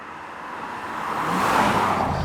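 A 1998 BMW E36 328i Sport driving on a country road, steady engine and road noise building slightly louder over a couple of seconds, heard alone.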